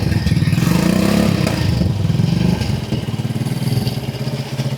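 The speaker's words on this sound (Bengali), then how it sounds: "এই তো বাইক স্টার্ট হয়ে গেল সাউন্ডটা তো শুনতেই স্যার" A restored TVS Victor 100cc motorcycle, modified as a cafe racer, idles close by after starting, its single-cylinder engine putting out a steady, rapid loud pulsing.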